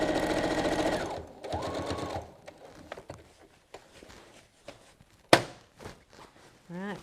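A sewing machine runs close by, stitching an apron seam in two short whirring bursts, followed by scattered clicks, handling thumps and a sharp clatter as the fabric is moved.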